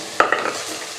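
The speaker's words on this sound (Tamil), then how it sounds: "வெங்காயத்தை போட்டு ஒரு கிண்டி விட்டுக்கலாம். ஆயில் நல்லா சூடாக இருக்குது." Onions and green chillies sizzle in hot oil for mutton kulambu while a utensil scrapes and stirs through them in a few quick strokes, close and fairly loud.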